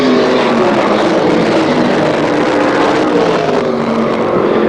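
Stock cars racing at Flemington Speedway in 1991, one running a freshly installed cold engine, make a loud continuous engine roar that fills the whole stretch with a steady, slightly wavering drone and no voices over it.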